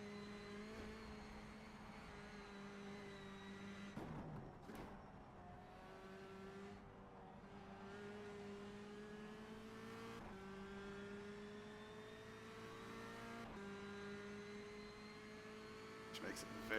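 Renault Clio Cup race car engine in the rFactor2 racing game, droning steadily with rising and falling revs through gear changes and braking, loud and continuous throughout with a few brief bumps.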